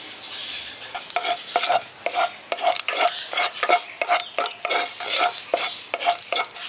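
Cardamom pods frying in melted ghee for carrot suji halwa, stirred with quick rhythmic metal scrapes and knocks against the pan, close and fairly loud over a soft sizzle.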